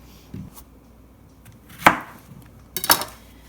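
A kitchen knife slices through zucchini and squash on a cutting board, giving two crisp, close chopping thuds about a second apart after a quiet lead-in.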